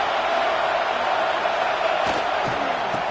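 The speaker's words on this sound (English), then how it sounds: "here comes the noise. This crowd is trying to inspire this defense to make a big red zone stop." Steady broadband stadium crowd roar from an American football video game, a loud continuous wash of noise rising as the home defense tries to make a red zone stop, with faint thumps near the end and no voices.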